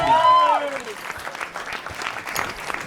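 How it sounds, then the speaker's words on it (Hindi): An audience at a comedy panel show bursts into loud applause, a dense close clapping that fills the whole stretch while a host's voice calls out over it. "पर जोरदार तालियां यार"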